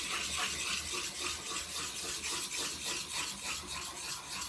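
A rusty old pair of shears is drawn along a 180-grit diamond sharpener with a little fluid to hone the bevel, giving a steady, rhythmic gritty rasp of repeated strokes, close and alone.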